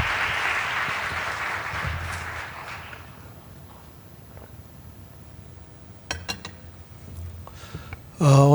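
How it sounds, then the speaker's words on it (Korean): A church congregation claps for middle and high school students at a late-night worship service, a burst of applause that fades out over a few seconds, followed by quieter room sounds and scattered clinks. "우리 중고등학생들 위해서 우리 뜨거운 박수 한번 쳐줄까요?"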